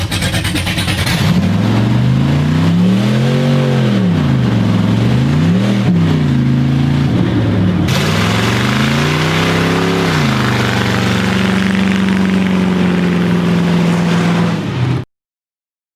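A loud LS V8 engine in a body-swapped car revs hard and steadily, its pitch sweeping up and down in repeated surges before settling into a high sustained drone, then cutting off abruptly.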